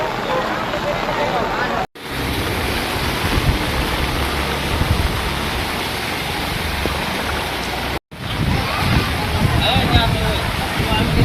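Dense, steady roar of heavy cloudburst rain pouring down during flooding in Pipaliya, Dhoraji, loud and continuous, with voices faintly underneath and two brief cut-outs in the sound.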